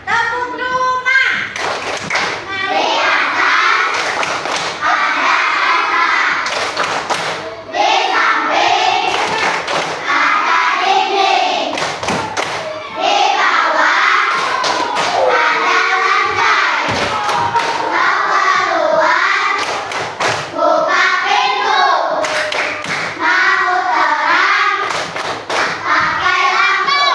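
A third-grade class performs a rhythmic clapping routine, children's voices chanting together over patterned claps and thumps in repeated phrases, loud and close in a classroom.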